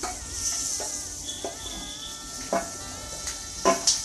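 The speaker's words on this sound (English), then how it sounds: "Now we can add all the chilies to it." Chilies frying in butter in a pan for mirch makhani: a soft, steady sizzle close by, broken by a few louder crackles and stirring scrapes, with no talk.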